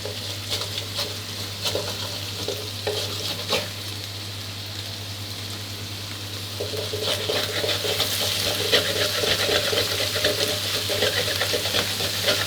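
Continuous sizzling of egg stir-frying in a pan with scraping and stirring clatter, growing louder and busier partway through, over a steady low hum.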